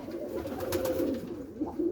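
Pigeons in a loft coo softly, a few low rolling calls close by over a quiet background, with no talking.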